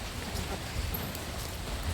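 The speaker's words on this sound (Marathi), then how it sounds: "पाऊस येतोय." Steady rain falls in a soft, even hiss on a morning, heavy but heard from indoors, faint and unbroken with no talking.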